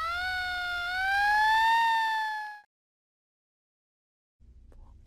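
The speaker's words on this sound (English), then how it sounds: "Or a siren." A loud rising and falling siren wail sounds for about two and a half seconds, followed by silence and a faint low rumble.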